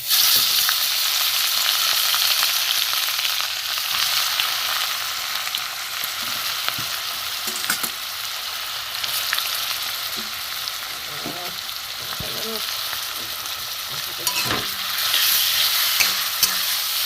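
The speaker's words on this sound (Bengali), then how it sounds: "ভালো করে ভেজে নেব গাজর" Grated carrots fry in melted ghee and oil, a loud, continuous hissing sizzle broken now and then by soft scrapes of stirring in the pan.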